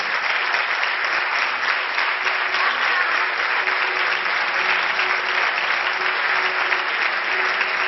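Audience applause at a fallera ceremony, a dense, even roar of many hands clapping that stays constant and loud from start to finish with no voices standing out.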